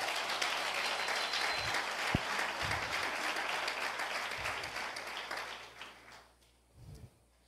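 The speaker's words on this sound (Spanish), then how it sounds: "por lo menos un aplauso al Señor Jesucristo" Applause from a church audience during a sermon, a broad wash of clapping with a few sharp isolated claps, fading out near the end as a low voice or rumble begins.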